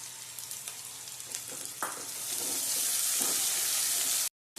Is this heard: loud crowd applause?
no